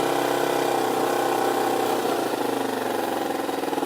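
A motorcycle engine runs steadily in second gear while riding toward cones, a close, even mid-pitched drone that shifts slightly partway through.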